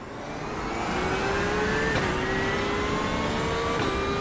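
GT3 race cars, a McLaren and a BMW, roar past at the Red Bull Ring, a loud accelerating engine note climbing steadily with gear shifts, close and alone without talk.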